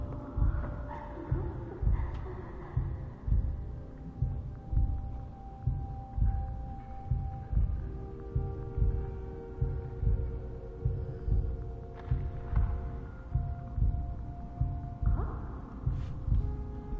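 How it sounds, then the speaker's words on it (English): A slow, steady heartbeat from the video game Last Day of June thumps evenly for the whole stretch, with a soft sustained whine and faint drifting tones layered above it. "You hear the heartbeat?"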